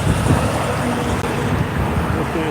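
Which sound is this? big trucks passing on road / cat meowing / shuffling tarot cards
big trucks passing on road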